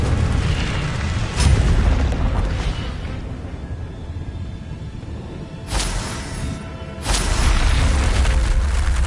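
The Incendio fire spell in the video game Hogwarts Legacy bursts with loud, roaring whooshes, a dense rumbling blast followed by two more fiery bursts later on, with no talk.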